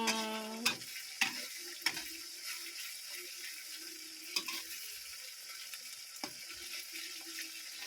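Chicken frying in hot oil, a steady soft sizzle with several sharp clinks and scrapes of a utensil against the pan, close and alone with no talk.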